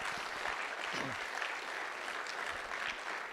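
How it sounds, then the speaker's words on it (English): Steady, even applause from an audience at a college crop technology final presentation, filling the whole stretch at moderate level with a faint voice passing briefly underneath. "we'll give them a warm round of applause for that"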